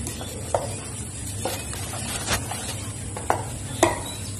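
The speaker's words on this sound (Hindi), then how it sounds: "अब इस चटनी को हम अच्छे से मिक्स कर दें" Chana dal chutney being mixed in a bowl with a spoon: soft, close scraping and stirring with a few sharp clinks of the utensil against the bowl, alone without speech.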